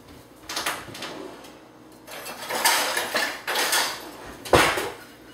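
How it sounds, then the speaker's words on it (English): Sugar and cornstarch whisked in a pot for a pie filling, heard as bursts of metallic scraping and clinking against the pot, close and fairly loud, in several uneven strokes with brief pauses and no speech. "Let me whisk this up so our cornstarch doesn't get lumpy."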